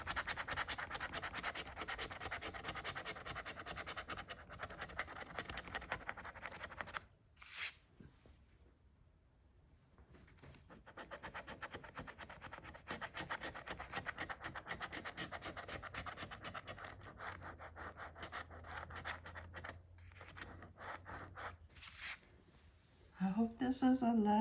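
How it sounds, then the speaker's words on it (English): Someone scratches a lottery scratch-off ticket, producing repeated dry rasping strokes in bursts separated by brief pauses, close and fairly quiet. "So let's start scratching."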